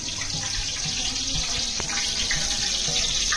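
Tap water runs steadily into a sink, a broad continuous hiss with a faint background clatter throughout.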